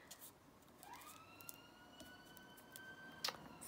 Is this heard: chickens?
no